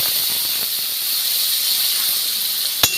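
Hot oil with spices, fried dried red chilli and a pinch of turmeric sizzles steadily as tomato goes in, a close continuous hiss with one sharp clatter near the end.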